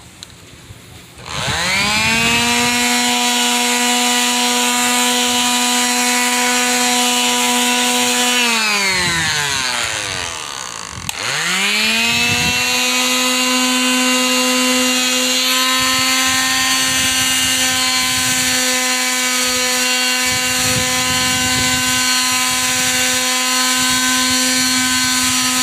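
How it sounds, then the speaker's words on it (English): A power sander whines loudly up to speed against a wooden truck backseat bed frame, winds down briefly and restarts, then runs at a steady high pitch, close up and alone. "I'm going to get started sanding here"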